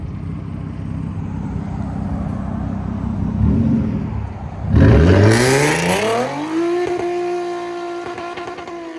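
A Hyundai Genesis 3.8L V6 revs up hard through a straight-pipe exhaust with a loud roar, climbing in pitch and then settling into a steady high idle.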